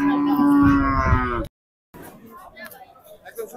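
At the Hazratpur cattle market, a cow lets out one loud, drawn-out moo close by. After a short gap, a busy crowd murmurs and chatters in the background.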